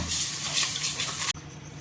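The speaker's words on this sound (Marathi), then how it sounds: "पाणी टाका थोडंसं" Water poured from a vessel into a large pot on a gas stove, a steady splashing pour that cuts off abruptly partway through, leaving a faint quieter tail.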